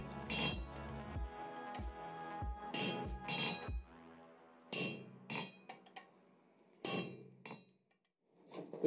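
Metal ringing strikes of hammer and chisel on a forged bar at an anvil while shaping a nature-inspired hook rack: a quick run of sharp, close clinks, then several louder spaced blows with ringing decay.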